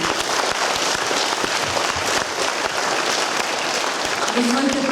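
Sustained, dense applause for the teachers of the Zolochiv music school at a year-end concert, a steady roar of many hands clapping throughout, with a voice starting at the very end.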